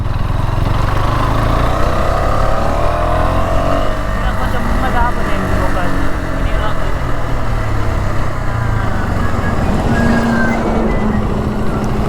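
Vehicles roar past loudly on a road beside a stopped motorcycle, a dense continuous engine and tyre rumble with shifting passing tones, and people talk over the traffic.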